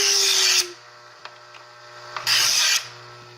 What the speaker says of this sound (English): So here's a little automatic knife sharpener.